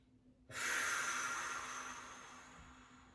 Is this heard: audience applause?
no